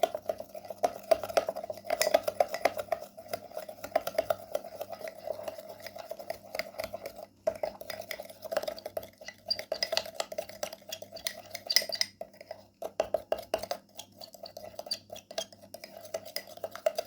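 Ingredients mixed with a teaspoon of milk in a small bowl for a homemade hair-removal remedy, giving a steady, close scraping and clinking of utensil against the bowl with brief pauses, no voices.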